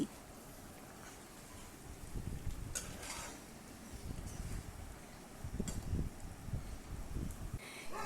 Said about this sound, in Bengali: একবার নাড়াচাড়া করে ভালো করে মিশিয়ে দিচ্ছি